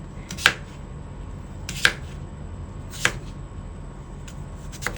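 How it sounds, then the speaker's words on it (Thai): Raw papaya being chopped on a board into pieces about 1 cm thick, four crisp, close knife strikes spaced roughly a second apart over a quiet background. "นำมะละกอมาหั่นเป็นข้อ ๆ ความหนาก็ประมาณ1เซนติเมตรค่ะ"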